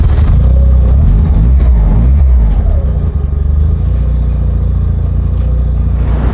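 Rotary 13B engine in a Mazda 808 street wagon rumbling loudly and revving up and down, a steady deep drone close by with no talk.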